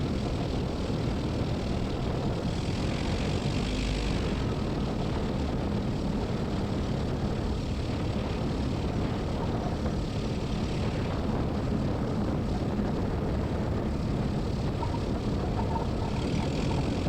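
Zenith CH 750 Cruzer light aircraft in flight, its engine and propeller giving a steady, loud, unbroken drone heard from inside the cabin, alone with no talk.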